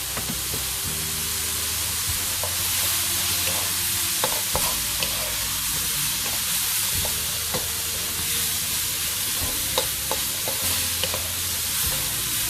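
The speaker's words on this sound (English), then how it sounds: "That garlic's starting to warm up, release its oils and smell beautifully along with the mushrooms and the chilli" Sliced garlic, chilies and mushrooms fry and get stirred in a pan, giving a loud, steady hiss of sizzling oil broken by occasional scraping and light clicks, heard up close without speech.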